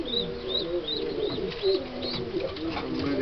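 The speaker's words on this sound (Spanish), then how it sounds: "Nos donó Alfredito, nos donó tres palomas" Three donated pigeons coo repeatedly on a farm, a steady low rolling cooing that continues throughout, with faint higher bird chirps above it.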